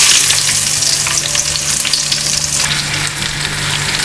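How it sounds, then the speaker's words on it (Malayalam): Onions sizzling in hot oil in a pan for a Kerala-style chicken curry, a loud, steady frying hiss with small crackles and pops throughout, close up with no voices. "ഇനി നമുക്കിതിലേക്ക് സവാള ഇട്ട് കൊടുക്കാം."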